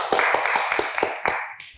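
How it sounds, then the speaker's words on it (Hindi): A studio audience on a current-affairs talk show claps in quick, rhythmic beats, about eight sharp close claps in a row that fade at the end. "ताली होनी चाहिए"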